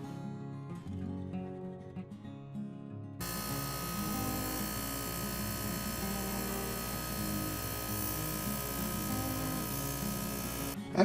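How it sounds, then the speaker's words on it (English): An ultrasonic cleaner switches on and runs with die-cast TootsieToy Jeep parts inside, a steady close electric buzz that holds for several seconds before stopping, with faint clinking beforehand. "it's time to give it a few rounds in the ultrasonic cleaner and wish for the best"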